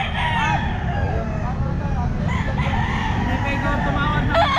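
At a busy outdoor pet market, a Saipan rooster crows amid the constant low rumble of crowd and traffic, with people talking nearby.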